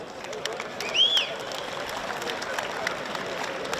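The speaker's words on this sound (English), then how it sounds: "If you could please keep that applause going for our officials here today." Steady crowd applause at a rugby match between Queensland Reds and Saitama Panasonic Wild Knights, a dense continuous wash of clapping from a stadium audience with a brief whistle-like chirp near the start.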